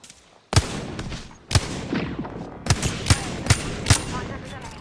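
Sharp video-game gunshots ring out in separate loud cracks, a few spaced apart and then a quicker run of four or five, each with a short reverberant tail.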